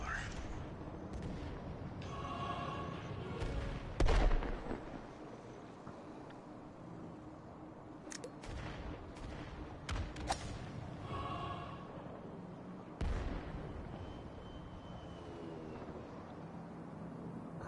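A bomb explodes in the video game Golf With Your Friends: one loud blast stands out, followed by scattered booms and crackling effects over a steady game background while people chatter intermittently.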